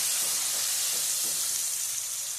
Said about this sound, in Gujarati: હવે આપણે આ ભીંડો અંદર નાખી દઈશું તળેલો તળેલો ભીંડો અંદર નાખીશું